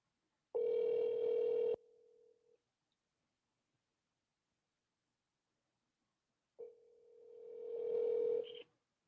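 A telephone call rings out on the line with two steady electronic ring tones separated by silence, the second rising in loudness, clear and close with no voices.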